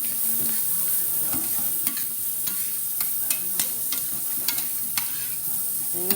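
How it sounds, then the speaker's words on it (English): Beans sautéing in a little oil with salt, a steady close sizzle punctuated by regular scraping and tapping strokes as they are stirred, with no talking. "Sauteed in a little oil, a little bit of salt"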